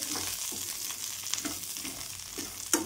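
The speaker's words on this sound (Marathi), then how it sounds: "छान भाजून घ्यायचं तेलामध्ये" Sesame seeds, peanuts and cumin frying in oil over a low flame for ambadi chutney, a steady soft sizzle with occasional stirring scrapes and a sharper clink near the end, no talking.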